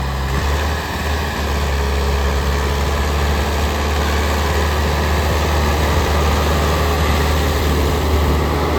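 A Swaraj 855 tractor engine runs steadily nearby, a loud, continuous low diesel drone with no breaks or noticeable changes in pitch.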